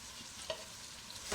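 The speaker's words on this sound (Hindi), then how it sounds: "टमाटर डालने के बाद इसको फ्राई करते जाएंगे और इसी तरह हलाते जाएंगे।" Tomatoes fry in a pan for a Multani chicken shorba while a spoon stirs them, giving a steady hissing sizzle with a scraping stir near the end, close and brief.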